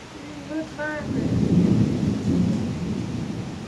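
A tropical afternoon thunderstorm with rain at a riverside home in Bang Nok Khwaek, Samut Songkhram, brings a deep, rolling rumble of thunder over steady rainfall, after a few brief tonal chirps at the start.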